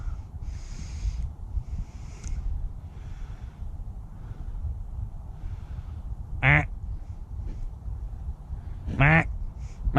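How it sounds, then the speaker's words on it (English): Mallard ducks flying in over water, with two short, loud raspy quacks spaced a few seconds apart over a rustling outdoor background and faint earlier calls. "Here come the ducks."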